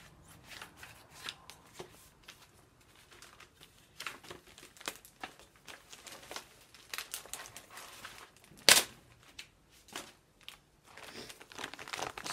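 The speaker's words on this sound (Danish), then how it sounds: "Det første, jeg er nødt til at gøre, det er selvfølgelig nødt til at åbne pakken." Plastic package of potting soil cut open with scissors, for pre-sprouting potatoes: quiet rustling and crinkling of plastic with scattered small snips and handling noises, one sharp louder crackle partway through, no talking.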